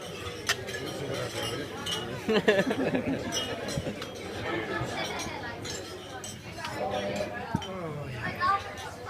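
Glasses clink repeatedly during a wedding toast, several bright taps over a crowd's chatter and talk in a busy reception room.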